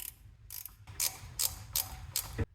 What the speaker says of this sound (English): I'll use this 12mm ratcheting wrench to tighten these bolts down the rest of the way while I'm down here